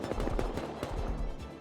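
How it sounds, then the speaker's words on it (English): AK rifle fire in a video game, a quick run of sharp automatic shots in a rhythmic burst, fairly loud and close, with no talk over it. "Is that AK? He's got an AK on his roof."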